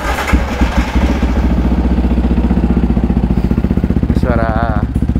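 A Yamaha WR155R fitted with a new Qala Performance exhaust idles close up, a steady low throbbing pulse that runs the whole time, with a brief wavering whine near the end.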